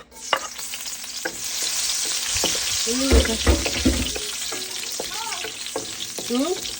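Oil heats in a frying pan (kawali) on a home stove, crackling and sizzling continuously with sharp pops and a few metallic scrapes of stirring, up close.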